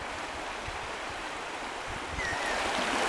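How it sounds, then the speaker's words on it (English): Fast water rushing over stones in the Meander River, a steady broad hiss that swells slightly louder toward the end, with no voices. "I'm going to fish the fast waters of the Meander River today."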